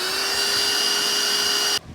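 A cordless vacuum cleaner runs steadily and loudly up close during RV cleanup, a constant whining motor drone with a bright high-pitched tone that cuts off abruptly near the end.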